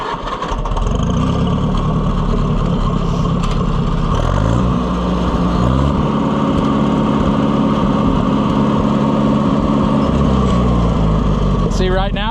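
An Oliver 550 tractor gas engine runs steadily without the choke after a points replacement, a loud, close, continuous chugging idle with slight unevenness, while a person talks over it.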